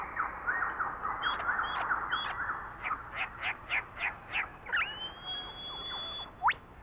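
A lyrebird of the Australian bush sings alone at close range, running through a rapid series of varied mimicked calls: bursts of repeated whistled notes, chirps and trills, then a long rising pure whistle and a sharp upward sweep at the end.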